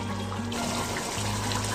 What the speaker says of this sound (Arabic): انا زودتها شويه ميه صغيرين مش كتير